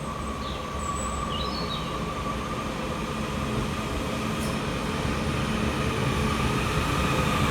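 Inside a Northern train just after leaving Roby Station, a steady rumbling ride noise with a constant hum fills the carriage, broken by a few faint high squeals of wheels on rail.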